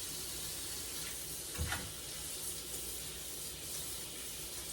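Tap water runs steadily into a sink while pork chops and pork steaks are rinsed under it, a continuous close hiss with one brief splash near the middle, no talking.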